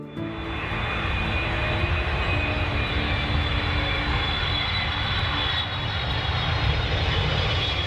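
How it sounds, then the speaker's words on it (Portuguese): A private jet touches down at Teterboro, New Jersey, its engines producing a loud, steady roar with broad rumble and a faint high whine, sustained evenly throughout with no voices. "O jato particular de Jeffrey Epstein toca o solo."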